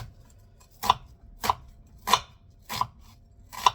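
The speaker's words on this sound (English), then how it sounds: "I think I can cut this into small." An onion being cut into small pieces with a little kitchen knife: five crisp, evenly spaced chops on a board, about one every 0.6 seconds, close and clear with no talking.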